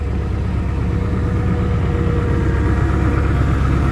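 A 2001 Ford Excursion with a 7.3 litre diesel idles just after a cold start at 17 degrees, a loud, steady low clatter and rumble close by with no voices.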